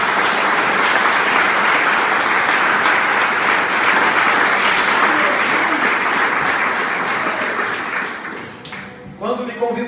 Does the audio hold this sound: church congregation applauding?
yes